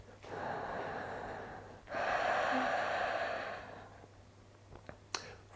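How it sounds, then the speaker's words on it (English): Slow, deep breaths during a yoga pose: two long, airy inhales or exhales close to the mic, followed by a quiet pause and a few faint small movements. "Deep breaths here."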